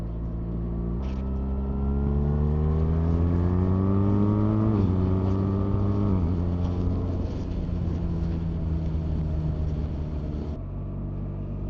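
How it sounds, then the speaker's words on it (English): A 2026 BMW R1300RS motorcycle accelerates hard through quick shifter upshifts, its engine note climbing and dropping abruptly at each gear change, loud and close, with no talk. "But when you're accelerating and using the quick shifter, there's a bit of a lurch to it."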